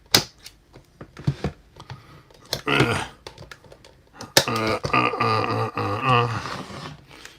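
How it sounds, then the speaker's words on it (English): Scissors snip through plastic to free a He-Man Masters of the Universe figure from a toy reef playset, with a quick run of sharp cutting clicks followed by a voice talking nearby. "Let me pull out my mega scissors and let's just chop this right off of there."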